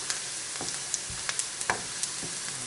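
Onions fry and caramelize in a pan for a quick Chinese-style noodle dish, producing a steady close sizzle with small crackles and light spatula taps throughout, no one speaking.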